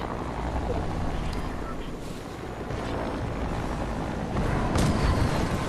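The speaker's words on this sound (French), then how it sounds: "Ils sont là, il y a 2 hélicos, mec." Two helicopters in a video game, a steady rotor drone with a low rumbling wash that swells slightly near the end, heard at moderate distance under continuous game background noise.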